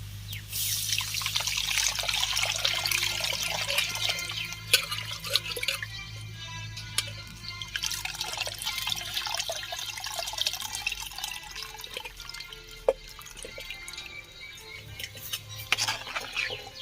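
Tamarind water poured into a simmering Chettinad-style country fish curry, a steady trickling stream with faint clinks of a utensil, close and fairly quiet, with no talking.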